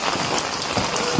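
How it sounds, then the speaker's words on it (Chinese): Rain falls steadily in a brief, even patter of many drops, with no voices. "下雨天真是麻烦喽"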